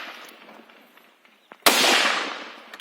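A single sharp carbine shot, an MA3 carbine fired by a soldier guarding the Goteik viaduct bridgehead in Myanmar, cracks loudly after quiet background and trails into a long, fading echo across the gorge.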